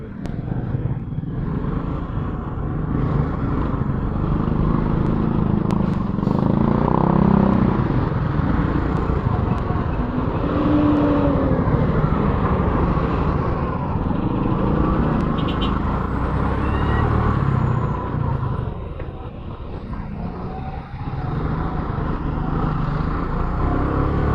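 Heavy road traffic at a closed road during a political campaign caravan gives a constant rumble of car, truck and motorcycle engines, swelling and easing slightly over about twenty-four seconds.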